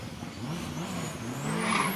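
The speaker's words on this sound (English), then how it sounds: "Fearsome car just leaves the line." A turbocharged race car launches hard off the start line of the Shelsley Walsh hill climb, its engine note climbing steadily as it accelerates away, loud and close, with no talking.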